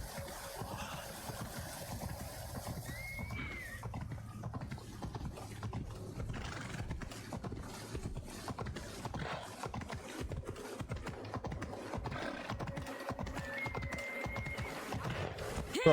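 A horse galloping in Assassin's Creed Odyssey, its clip-clop hooves beating in a steady rapid rhythm throughout, mixed with faint ambient game sounds and no talk.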